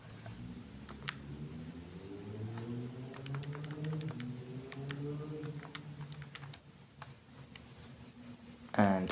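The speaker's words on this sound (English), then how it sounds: "I'm just going to type this into the calculator." Numbers are keyed into a calculator in a run of quick, light clicks and taps over a steady low hum, with a louder clatter right at the end and no talking.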